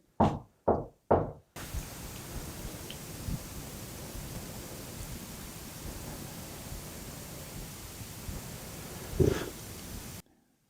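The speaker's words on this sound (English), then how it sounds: "I heard a knock." Three sharp knocks in quick succession, then a steady hiss of background noise with one more muffled thump near the end.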